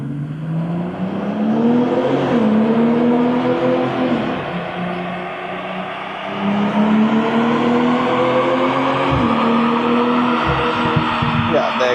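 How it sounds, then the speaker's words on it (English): A BMW M340i's stock exhaust drones steadily on a dyno through several rising gear pulls, fairly muted and even, with brief dips between shifts and a soft whir underneath. "we are going to do a run just to show you guys what the stock exhaust sounds like"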